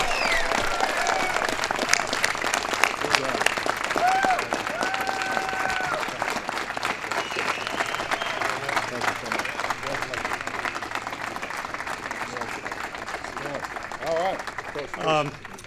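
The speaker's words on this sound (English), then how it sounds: "So please give one more time Super Bowl champion Denver Broncos big round of applause." A large audience gives sustained applause for the Super Bowl champion Denver Broncos at a White House ceremony, dense clapping lasting around fifteen seconds with scattered voices and cheers mixed in before it fades.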